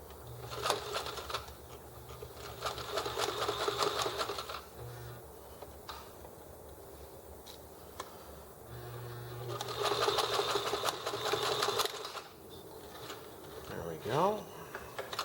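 A sewing machine stitches drawstring bag fabric in two close rapid mechanical bursts of a few seconds each, separated by a pause, while a person talks softly.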